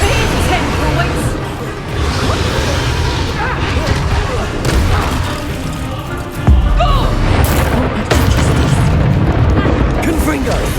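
Confringo and Flipendo spells fired during a hard-mode battle in Hogwarts Legacy, loud booming blasts and bursts layered over continuous combat noise and shouting voices, with a heavier impact around the middle.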